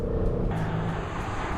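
A Dodge Challenger 392 at speed on the Sears Point race track, its engine and road noise a loud, steady roar that shifts in tone partway through.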